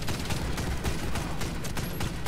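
Dense, continuous gunfire crackles throughout, rapid overlapping shots forming a steady barrage with no talk over it, in the video game Warface.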